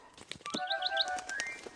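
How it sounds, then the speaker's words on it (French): A cartoon bird chirps a quick run of bright, high tweets, lifted above a soft musical backdrop in a children's animated firefighter show. "C'est la première fois que je vois un oiseau de si près."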